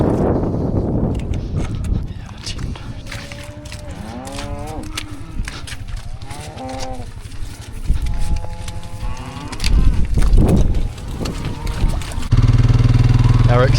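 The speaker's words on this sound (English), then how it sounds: "Our extremely naughty second herd cows." Dairy cows from a second herd moo in a turnip paddock on a New Zealand farm, several long drawn-out calls close by, with someone talking and a motorbike-like engine rumbling at times.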